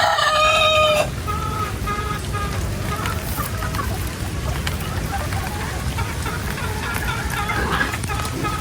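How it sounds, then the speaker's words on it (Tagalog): Chickens and a rooster clucking and crowing at a sheltered coop on a rural farm during heavy rain, a crow ringing out at the start, then steady clucks over the constant patter of rain. "Yan naman pong mga manok ay may silungan yan."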